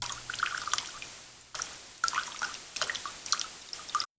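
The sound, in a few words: synthesizer noise oscillator water droplets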